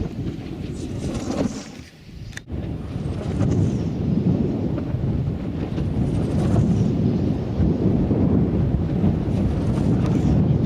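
Strong wind at Lake Tekapo, New Zealand, buffets the microphone in a continuous low roar, briefly easing near the start before gusting steadily on.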